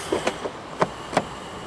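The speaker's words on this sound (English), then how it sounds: "To lock the car, press the ribbed area on any of the four door handles." A 2020 BMW X5 xDrive45e M Sport locking its doors by the keyless handle, a few sharp separate clicks and clunks spaced over under two seconds, close and crisp against a quiet background.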